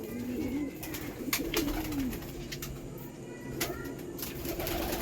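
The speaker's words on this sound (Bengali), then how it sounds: "কিছু নতুন পায়রাও আছে মানে বাড়িরই পায়রা" Soft, throaty cooing from domestic pigeons in a net enclosure repeats at close range over a steady background hum, with a few sharp clicks and rustles.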